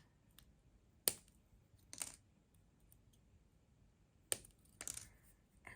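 Cutters snipping square copper wire while wrapping a round stone, a few sharp, quiet clicks spaced apart, close to the listener in a near-silent room.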